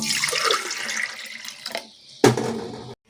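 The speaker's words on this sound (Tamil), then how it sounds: "நம்ம ஒரு குக்கர் எடுத்துக்கிட்டோம் இதில் வந்து ஒரு மூணு டம்ளர் தண்ணி சேர்த்திக்கலாம்" Water pours into a pressure cooker in a kitchen, a steady rushing splash that pauses briefly and then resumes in a louder burst before stopping abruptly; nobody speaks.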